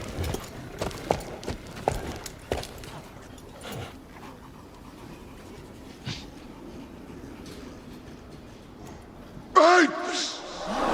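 Horses galloping in a Planet of the Apes film scene, a rapid patter of hooves under speech and dramatic score, followed by a sharp shrill cry near the end.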